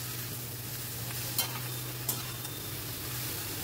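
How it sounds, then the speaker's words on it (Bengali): Faint continuous sizzle of spice masala frying with onions, stirred steadily, with two brief sharp spatula scrapes against the pan over low background hum. "দেখুন আমি অনবরত কিন্তু নেড়ে যাচ্ছি"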